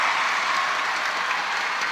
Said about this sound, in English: the crowd getting fairly excited here